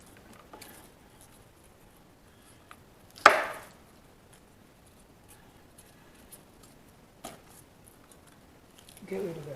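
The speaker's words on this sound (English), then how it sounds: "I should have cut this a bit finer." A kitchen knife cuts mooli radish into strands with a few scattered thuds and scrapes, one louder chop standing out, while a person talks.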